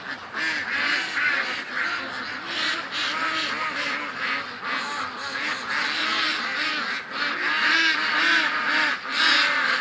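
Startled ducks in a pen at night, quacking continuously in a loud, overlapping flock chorus that stays close and agitated throughout.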